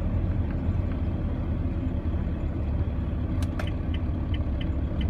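A Renault vehicle fitted with a VGT device runs at low revs while driving, a steady, close, droning engine rumble throughout with faint light rattles from the cabin.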